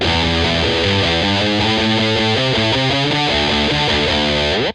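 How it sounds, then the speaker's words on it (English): An electric guitar through a prime distortion patch on an effects unit, playing loud, crunchy chords that change steadily in a riff, dense and saturated with no voices, cutting off at the end. "which is number 3, which is the prime distortion"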